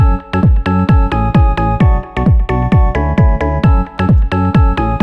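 A bright house-style synth lead plays a quick run of short, plucky notes in a steady rhythm, each note trailing off into a brief short room reverb.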